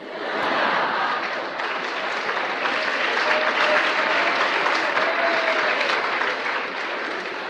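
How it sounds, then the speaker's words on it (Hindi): A dense, steady round of audience applause fills the room for several seconds, loud and continuous with many hands clapping at once, a faint murmur of voices mixed in. "जिस पे ताली नहीं बजानी चाहिए उस पे ताली बजाते हैं।"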